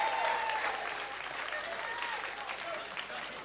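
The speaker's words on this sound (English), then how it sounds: "everyone else give them a round of applause" A crowd claps in sustained applause, steady and moderately loud, with a few voices and whistles mixed in.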